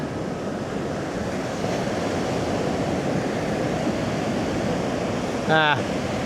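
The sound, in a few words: ocean waves breaking on the beach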